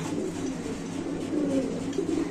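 Pigeons kept with eggs and squabs coo softly and steadily in low tones beneath a constant hiss of room noise, the calls swelling slightly midway.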